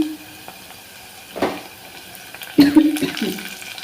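Curry leaves dropped into onions softening in hot oil for a dry fish pulusu, a sudden burst of sizzling crackle that flares loudly then settles, following a brief earlier spatter.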